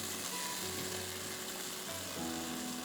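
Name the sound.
food frying in a pan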